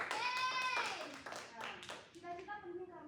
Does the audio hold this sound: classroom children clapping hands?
yes